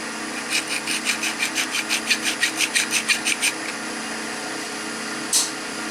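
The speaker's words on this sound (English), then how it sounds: "So when you're going down that side, you can actually scrape with this edge as well." Skew chisel edge scraping turned wood on a lathe while shaping a dovetail tenon, a rapid series of about fifteen rhythmic rasping strokes over steady lathe hum, then a single brief scrape near the end.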